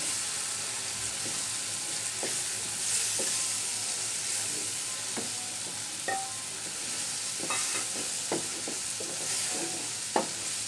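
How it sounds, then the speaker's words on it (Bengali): Beaten egg frying with yardlong beans in a pan, a constant close sizzle with scattered spoon scrapes and clinks as it is stirred, no voices. "আমি চারপাশ দিয়ে ঘুরিয়ে ঘুরিয়ে দিচ্ছি সাথে সাথে একটু নেড়ে দিতে হবে"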